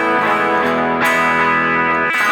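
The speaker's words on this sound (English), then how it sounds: "Let's move on to the overdrive." Overdriven electric guitar through a Neural DSP Quad Cortex with light breakup, sustained chords ringing loud and steady, with a fresh strum near the middle and another near the end.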